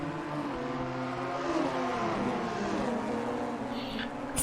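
Racing car engine in Assetto Corsa, heard from an outside view, a steady droning multi-harmonic note that rises and falls gently as revs shift through a corner, continuous and fairly loud with no talk.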